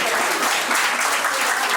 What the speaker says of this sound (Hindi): बहुत जोर से तालियां बजनी चाहिए